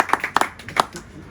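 Audience in a French-language conference hall starting to clap for a speaker, a sparse scattering of individual hand claps in quick irregular succession, fairly light and brief.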